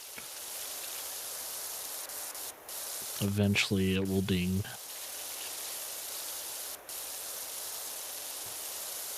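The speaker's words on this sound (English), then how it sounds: "Yeah, I think anytime I see dirt, just start spraying." A steady hiss of spray from a pressure washer in a video game runs unbroken throughout, with someone talking briefly over it midway.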